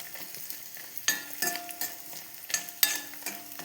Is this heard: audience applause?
no